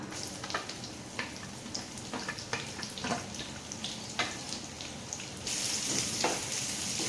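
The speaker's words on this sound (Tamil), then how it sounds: "கடுகு வெந்தயம் பொரிஞ்சிடுதுங்க" Mustard and fenugreek seeds splutter in hot oil before onions and anchovy fry are added, faint crackling pops scattered over a low hiss, with a brief burst of running water late on.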